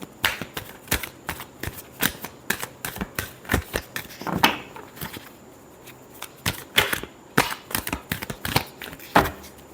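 A deck of tarot cards is shuffled by hand, a rapid run of crisp riffling flicks and slaps in irregular bursts, close and fairly loud with no talking.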